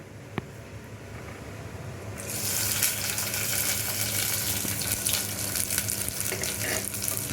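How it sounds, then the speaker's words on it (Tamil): Small shallots drop into hot, smoking oil in a clay pot and set off a loud, steady broadband sizzle that begins abruptly about two seconds in and keeps going to the end, with no one talking. "இப்போ சின்ன வெங்காயத்துக்கு போட்டுடலாம்."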